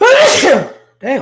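A single loud, close sneeze bursts out, followed after a brief pause by a short spoken word from a man.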